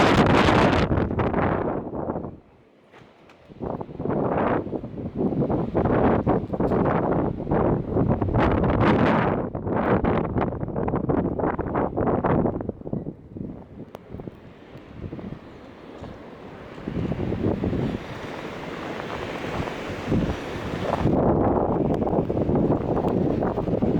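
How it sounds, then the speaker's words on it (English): Howling wind gusts batter the microphone during a Maine blizzard with near two feet of snow and whiteout conditions, loud surging roars rising and falling in waves with brief lulls, no talking. "Listen to that wind."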